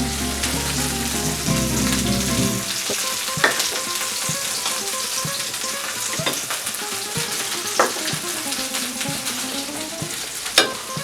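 Red peppers frying in a beef paella pan, a loud continuous sizzle with stirring and scraping, sharp clacks as the pan is moved or shaken every few seconds.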